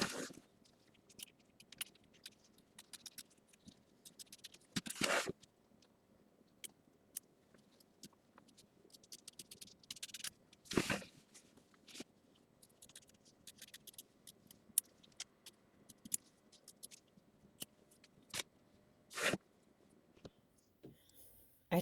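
Scissors trimming the fabric of a quilt block, with quiet snips and rustling scattered through and several louder cutting or handling bursts, all close and soft.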